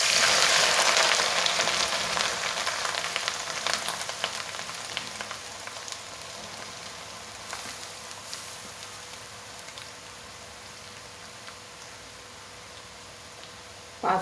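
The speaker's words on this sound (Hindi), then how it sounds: "मैंने कढ़ाई में जो घी डाली थी 5 टेबल स्पून, उसमें मैंने सब फ्राई की हूँ। इसी में मैं ये खोपरा डालूँगी।" Dry coconut going into hot ghee in a kadhai for methi laddu with dry fruits: a loud sizzling hiss at first that settles into a quieter, steady frying crackle with faint ticks.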